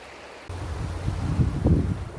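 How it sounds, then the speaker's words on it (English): River Francois in Mauritius flowing, a soft broadband rush that swells after a brief quiet start, with low rumbling gusts like wind on the microphone and no talk. "On this river, River Francois."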